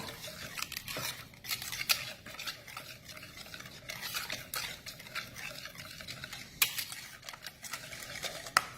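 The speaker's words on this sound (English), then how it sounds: "So go ahead and just mix this all together." A spoon stirs Mighty Mo burger sauce ingredients together in a bowl, with repeated scraping and wet swishing strokes in an uneven rhythm, close and fairly clear with no talking.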